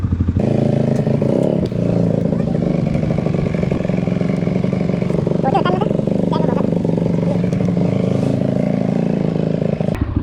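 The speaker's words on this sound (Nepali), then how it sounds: "चुक तानेर चाहिँ स्टार्ट गरिराख्यो भने चाहिँ अलिकति पावरमा अलिकति लाउड एग्जस्ट आउँछ" A motorcycle engine runs loud and steady close by, its exhaust roaring and revving with a constant throaty rumble for the whole stretch, while a few voices talk over it.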